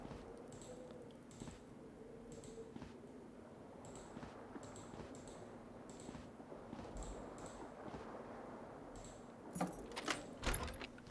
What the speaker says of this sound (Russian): Ключи.